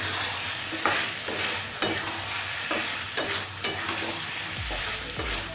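Fried potatoes and pointed gourd are stirred into sizzling spices in a pan, with a spatula scraping in regular strokes roughly once a second over a continuous loud frying hiss.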